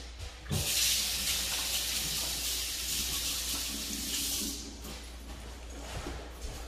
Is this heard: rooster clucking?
no